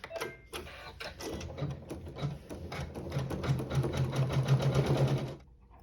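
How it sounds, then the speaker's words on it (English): A sewing machine runs steadily, stitching the tack-down seam on a quilt block, its rapid needle rhythm close and continuous for about five seconds before stopping. "continuing with that same thread, we'll sew the tack down"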